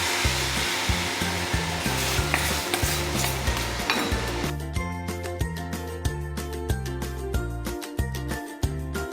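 Dried red chillies, spices and asafoetida sizzling in hot oil for a red chilli pickle, a steady close frying hiss with rhythmic stirring clinks throughout.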